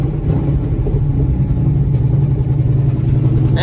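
A 1967 Ford F100 pickup engine idles steadily and close, a loud, even low rumble with a light ticking clatter and no voices.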